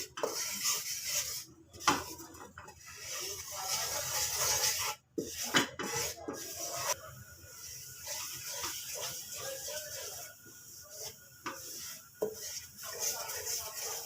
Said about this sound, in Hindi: इसको अच्छे से चम्मच को हिलाते जाएंगे ताकि लम्स ना बने।